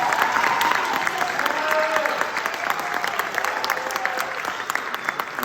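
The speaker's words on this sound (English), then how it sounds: "So we should clap for that right away." An audience claps for a student at a high school fall band concert. The applause is loud, dense and sustained, filling the whole stretch with a steady crowd of hands and no pause.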